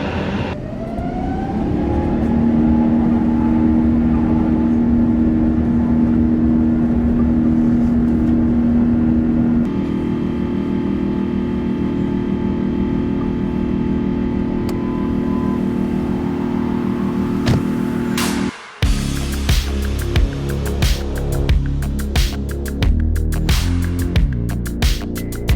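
Jet engines of an Azul Airlines Airbus A350 roar loudly through takeoff, a dense sustained rumble with a steady whining tone that builds, then an abrupt shift to a heavier rattling roar.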